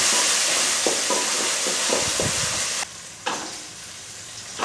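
Onions with ginger garlic paste sautéing in a pan for quail gravy, a steady close sizzle with scattered stirring scrapes, briefly dropping then resuming.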